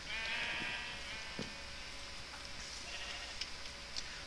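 Minecraft sheep bleating: several short, fairly quiet bleats scattered over a faint steady background.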